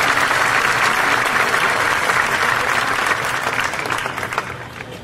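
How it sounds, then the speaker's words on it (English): A large audience at a high school graduation ceremony claps in a sustained, dense roar of applause that stays steady for several seconds and then begins to thin out. "Please give these individuals a round of applause for their service to our students."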